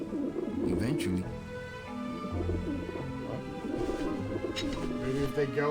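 Pigeons coo repeatedly in Grim Fandango Remastered, a low soft burbling running under continuous game music and talking voices.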